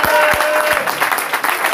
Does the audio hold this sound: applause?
yes